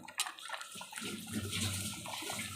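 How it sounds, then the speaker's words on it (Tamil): Water being poured into a pot of dried fish curry with vegetables, a steady close splashing pour that runs continuously through the clip without speech. "இது தேவையான அளவு நம்ம தண்ணி கொஞ்சம் நல்லா சேர்த்துக்கலாம்"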